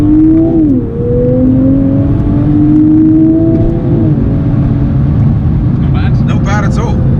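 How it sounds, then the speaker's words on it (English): A sports car engine, either a 2020 Toyota GR Supra or a BMW Z4 M Coupe, accelerates through rising and falling gear pulls with a whirring turbo. It sounds loud and close from inside the cabin, and a voice speaks briefly near the end. "It sounds good. You can hear the turbo."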